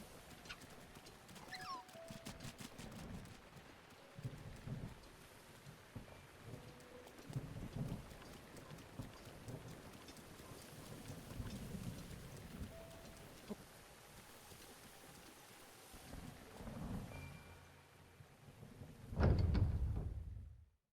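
Rain and thunder on the Thundra Plateau in Zelda Breath of the Wild: steady rainfall hisses throughout with low rolling rumbles, building to a loud, close thunder crash near the end.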